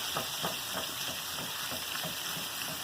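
White squash fries in a pan that is shaken repeatedly, a steady close sizzle with rhythmic whooshing pulses from the tossing, no voices.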